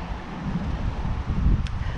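Strong wind at a beach buffets the microphone with a low, uneven roar that surges and eases throughout.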